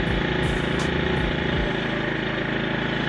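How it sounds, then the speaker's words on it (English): A Dirty Hand Tools portable generator runs in eco mode, a close, steady, rapidly pulsing engine drone with a low mechanical rumble and some shifting knocks at the start. "I just got the Dirty Hand Tools cranked up and it is in eco mode"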